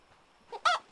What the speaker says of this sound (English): Chicken sounds.